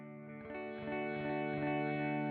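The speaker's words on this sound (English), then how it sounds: "The echo will be louder." Guitar strum processed through the EchoFlower iOS echo app with its echo level turned all the way up, a sustained chord ringing and repeating in a dense, loud wash of echoes with no gaps.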